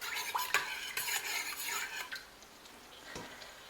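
Palm oil melts in a cooking pot for Cameroonian achu yellow soup, with a soft sizzle and scraping spoon strokes that are busy at first, then fade to a quieter hiss.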